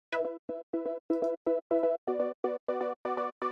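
A simple synth patch made in Diva plays a steady rhythmic pattern of short, buzzy harmonic notes, about a dozen evenly spaced hits, brightening slightly as it goes.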